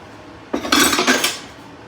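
In a home kitchen after cooking a chicken stir fry, dishes and pots are moved and stacked in a short burst of loud close clatter and clinks lasting about a second, with no talk.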